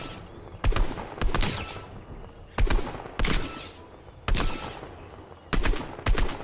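Gunfire in the video game Fortnite, fired at a target in water, arriving as five or six loud bursts of rapid shots separated by short pauses, with no talking.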